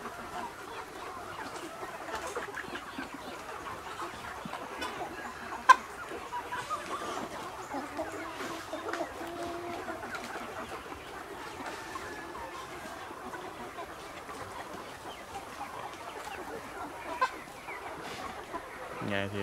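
Chickens cluck softly and continuously while feeding on a farm, faint and scattered, with a couple of sharp knocks and a voice talking in the background.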